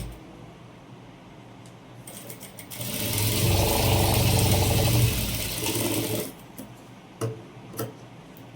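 Sewing machine stitching a basting stitch on a princess blouse, running as one steady, loud mechanical whir for about four seconds between quieter stretches with no one talking.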